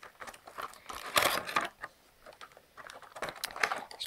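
A toy pony package being opened close by, with irregular crinkling and rustling of packaging in uneven bursts and short pauses.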